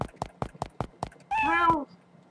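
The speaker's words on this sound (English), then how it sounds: "It's a kitty cat. Meow!" A cat meows once in the Exile III video game, a clear drawn-out in-game meow following a run of rhythmic footstep-like thumps.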